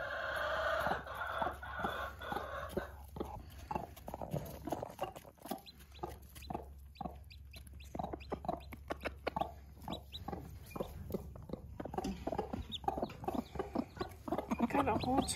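Hens in an urban backyard flock cluck softly and repeatedly while showing their chicks how to eat, with busy pecking and scratching, a rooster crowing at times, and occasional quiet human talk nearby.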